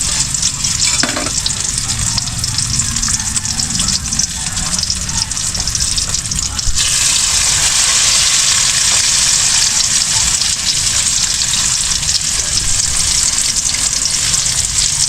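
Native eggplant fries in a pan of hot cooking oil, giving a loud continuous crackling sizzle that swells partway through as more moisture hits the oil, close and steady with no talking.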